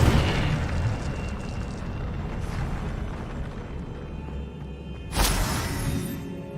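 Incendio fire spell cast in the Hogwarts Legacy video game, a roaring, rumbling blast of flame with a sharp whooshing burst near the end, loud and dense throughout.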